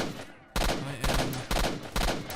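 Enemy gunfire in the video game STALKER Shadow of Chernobyl: four loud, sharp bursts of rifle fire at an even rhythm, about half a second apart, close by.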